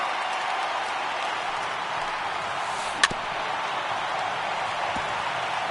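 A stadium crowd of over 39,000 at a baseball game in a video game roars in a steady, dense wash of cheering, broken by one sharp crack about midway through.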